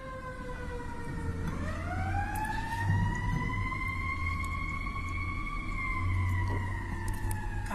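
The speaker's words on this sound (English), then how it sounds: "we have a siren again" A wailing emergency vehicle siren rises and sweeps steadily over several seconds, heard from a distance through a room over a low rumbling background, with no talk.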